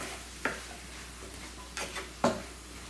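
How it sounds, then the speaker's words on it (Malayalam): A spoon stirs salt and turmeric into food cooking in a pan, giving three soft, brief scrapes and clinks spaced across a quiet background with no talking. "എല്ലാം കൂടി ഒന്ന് മിക്സ് ചെയ്ത് വയ്ക്കാം."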